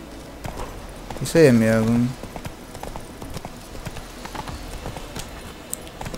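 Roach the horse galloping in The Witcher 3, with quick hoof clip-clops running through the whole stretch as someone talks briefly over it.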